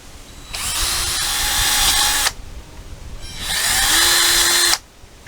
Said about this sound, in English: I like to drill my overflow holes on the opposite end of the container from the fill pipe